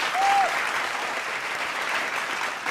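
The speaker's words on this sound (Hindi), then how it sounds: "स्वागत करेंगे जोरदार तालियों के साथ" Studio audience at a televised political comedy show applauding arriving guests, loud sustained clapping throughout, with a brief tonal sound at the start.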